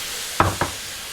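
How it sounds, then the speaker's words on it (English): Lemon juice hits a hot pan of roasted Brussels sprouts, giving a steady close hiss of sizzling with two short, sharper spattering bursts close together. "And yes, it does sizzle quite a bit, which makes it exciting."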